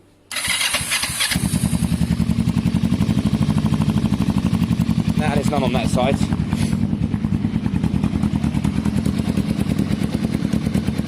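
A Kawasaki cafe racer motorcycle engine cranks briefly, catches and settles into a steady, loud, close-up idle with a rhythmic exhaust pulse, and someone speaks over it.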